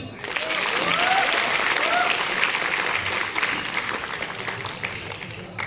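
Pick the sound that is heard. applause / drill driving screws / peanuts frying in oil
applause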